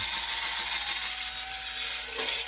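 Saker electric spin scrubber running at its slow speed while scrubbing a soapy sink, a steady mechanical whir with a faint tonal hum and brushy scrubbing texture, continuous and close, briefly shifting near the end.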